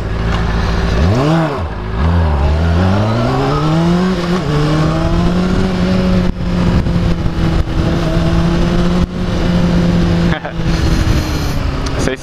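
A Honda CBR600RR sport motorcycle engine revs up sharply several times while standing still, then holds a steady high drone, loud and close.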